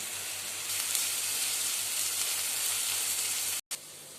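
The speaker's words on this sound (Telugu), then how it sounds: "ఈ ఆనియన్స్ని కొంచెం బ్రౌన్ కలర్ వచ్చేంత వరకు ఫ్రై చేసుకుందాం" Onions frying in a pan on the way to browning, a dense continuous sizzle and hiss, close and loud, with one brief cut near the end and no voices.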